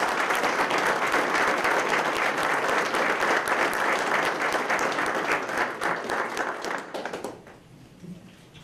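Audience applause at a police promotional ceremony, a dense, sustained round of clapping from a crowd indoors that holds for several seconds and then tapers off to scattered claps and quiet.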